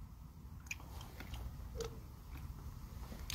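Crunchy chewing of black sea bream sashimi dipped in doenjang, a close, quiet series of soft bites and squishy mastication with a few sharper crunches.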